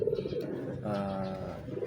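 A kolong pigeon being trained gives a soft, near coo in a single drawn-out phrase, set against a low background of other bird sounds.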